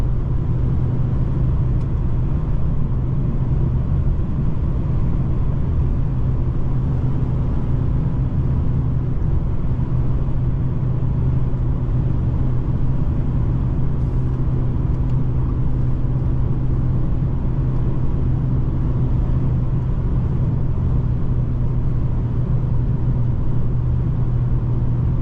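A 2019 Mercedes-Benz CLS450 4MATIC accelerates from idle, its engine rising into a steady, loud, close rumble with road and wind noise filling the cabin throughout, no voices heard.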